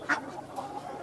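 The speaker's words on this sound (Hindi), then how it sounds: "ये जो असील और देसी का क्रॉस है मुर्गा" An Aseel and desi cross rooster lets out a single short cluck near the start, close and fairly clear, followed by low, quiet background noise.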